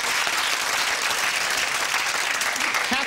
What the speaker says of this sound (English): Round of applause for the three.